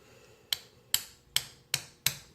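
A bolt is hammered into bread packed in a Toyota 1JZ-GTE pilot bearing bore, five sharp metallic hammer strikes at an even, steady rhythm, close and clear over quiet room background.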